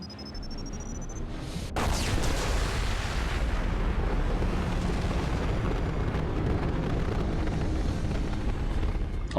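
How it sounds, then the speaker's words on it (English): A massive explosion in the video game Mass Effect 2 erupts after a brief electronic tone, then rolls on as a long, loud, dense rumble that fills the scene without fading. "Impending explosion."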